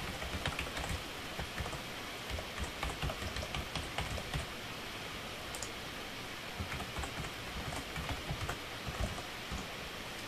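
Rapid typing on a computer keyboard while account login details are entered, with irregular bursts of close, crisp key clicks continuing throughout and no talking.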